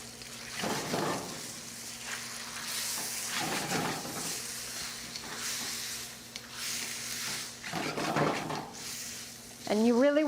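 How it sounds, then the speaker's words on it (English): Noodles tossed in a little oil frying on the bottom of a pan, a steady close sizzle with bursts of stirring and scraping spread across the clip, with no talk. "you really want to let these fry up on the bottom of the pan"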